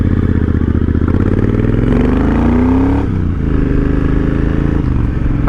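A 2010 Triumph Thunderbird 1700 fuel-injected motorcycle engine fires up and idles close by, a steady loud rumble with a brief rising rev partway through, no talking.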